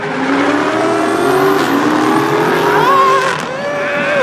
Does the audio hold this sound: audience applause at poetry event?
no